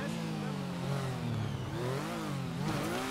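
A Honda Transalp 700 motorcycle in GTA V revs hard, its engine note sweeping up and down continuously and loudly, with no pause, while someone talks over it.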